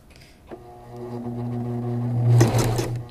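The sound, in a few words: sewing machine stitching fabric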